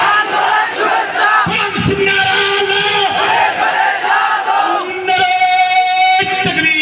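A large crowd at a Bangladeshi religious gathering in Kamrangirchar roars a chanted "Allahu Akbar" in unison answering a leader's call of Naraye Takbir, loud massed voices through a PA, the chant repeating in waves.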